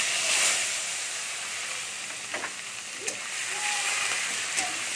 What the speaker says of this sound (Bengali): এর মধ্যে আমি পেঁয়াজ বাটাটা দিয়ে দিচ্ছি।